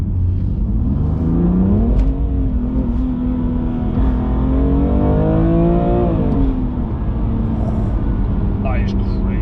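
Loud engine of a 720bhp 2020 Audi RS6 droning and revving up and down in pitch, close and sustained, with a person talking over it.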